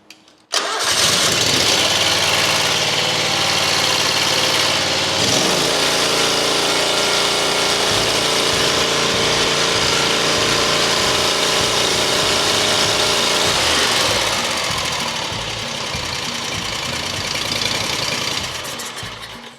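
The engine of a Hustler mower with a broken choke linkage, choked by hand, cranks and catches. It then runs loud and steady nearby, with its pitch and load shifting partway through before it eases off near the end.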